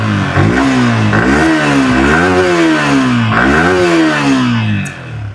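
A Yamaha R15 V4 motorcycle engine runs loud and close, revving up and dropping back in repeated rising and falling sweeps over a steady idle beat before settling.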